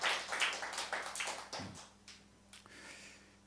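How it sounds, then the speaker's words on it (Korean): A church congregation claps during a Sunday sermon, with brisk handclaps that thin out and fade over a few seconds. "박수 좀 해줄까요?"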